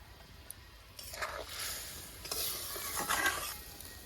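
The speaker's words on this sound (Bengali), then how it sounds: "2 মিনিট জাল দেওয়ার পরে জলটা ভালোই ফুটে উঠেছে" Water comes to a boil in a pan while matar paneer cooks, a soft hissing bubble that swells in uneven bursts over a few seconds, fairly quiet and with no one speaking.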